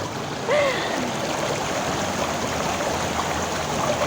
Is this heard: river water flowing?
yes